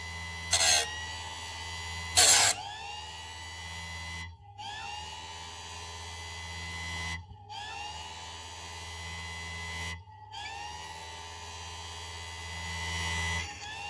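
GÜDE GKS 108 electric chainsaw sharpener running with a steady motor hum, interrupted by brief pauses between passes as the grinding wheel works each chain link, with two short harsh grinding bursts early on.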